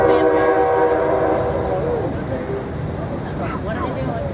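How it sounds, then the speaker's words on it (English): Train passing a skate park at a town grand reopening, its horn sounding in sustained tones at first before fading into rumbling rail noise with crowd chatter and talk over it. "I guess I'll wait for the train."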